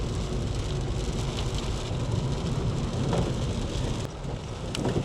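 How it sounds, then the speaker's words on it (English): Steady, dense rain pours down without letup, a constant broadband hiss close by, with no voices. "Still raining out there though, despite the sun shining to the west."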